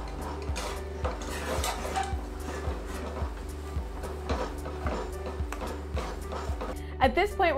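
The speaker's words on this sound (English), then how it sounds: "We're just gonna stir quickly until a ball of dough forms." A spoon stirs flour into boiling liquid in a pot, working it into choux dough for cream puffs. Quick, regular scraping and knocking strokes repeat about twice a second, close by, with a brief clatter at the end.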